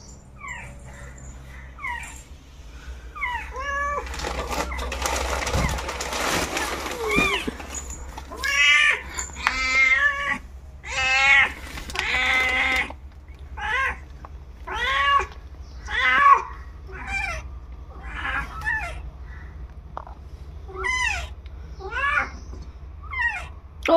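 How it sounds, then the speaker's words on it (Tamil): A cat giving birth to kittens at home meows repeatedly in strained, drawn-out cries, close and loud, with a burst of rustling noise early on and short pauses between calls. "நம்ம வீட்டில் பூனை குட்டி போடுது, அதைத்தான் வந்து வீடியோ எடுத்திருக்கேன்."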